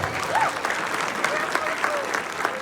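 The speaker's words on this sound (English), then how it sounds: "another round of applause for that cast." A school play audience applauds the cast, a steady wash of clapping with some voices murmuring and calling out through it.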